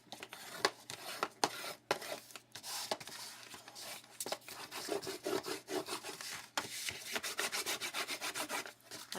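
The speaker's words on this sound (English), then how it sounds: "making sure that it's in the crease, and then rubbing it out" A paper fold is rubbed flat along its crease for a flip folio, a faint close scraping and swishing in short repeated strokes, with no talking.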